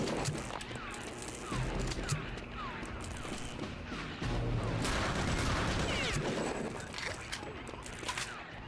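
Rapid bursts of MP40 submachine gunfire in Return to Castle Wolfenstein, loud and close, with crashing impacts and a voice speaking over the shooting.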